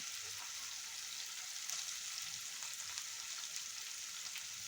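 Cluster beans fry in a pan with a soft, steady sizzle that runs on alone without a break.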